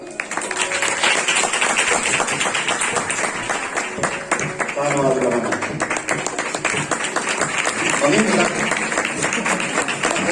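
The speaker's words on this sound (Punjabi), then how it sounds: "ਸਭ ਜਣੇ ਤਾੜੀਆਂ ਨਾਲ" Audience applause at a church service gathering in Himachal, steady sustained clapping from a crowd filling the whole span, loud and dense, with a voice speaking over it partway through.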